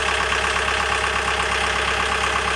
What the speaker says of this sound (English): I'll put some revs on too and see if it picks up